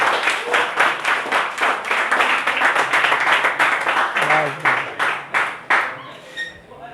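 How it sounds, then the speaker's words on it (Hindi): A classroom of students claps for a classmate, a dense burst of applause that holds steady, then thins into scattered final claps, with a voice briefly heard near the end. "जोर से तालियां बजा दो प्लीज छोरे के लिए।"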